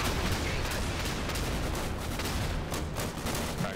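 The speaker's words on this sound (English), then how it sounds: "Requesting immediate rocket run on my target." Rocket artillery strike in the World War II shooter Day of Infamy, a continuous dense barrage of blasts and rumbling explosions, loud and unbroken for several seconds.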